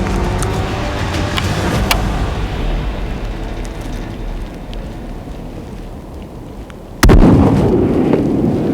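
One loud, sharp hunting rifle shot cracks out near the end, after a long stretch of quiet outdoor background noise, followed by a brief rumbling tail.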